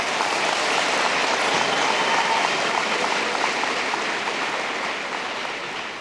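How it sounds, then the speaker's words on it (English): Applause from a large audience at a high school senior convocation for early college students, a thick, continuous roar of clapping that holds steady and tapers slightly at the end. "And a round of applause for these folks."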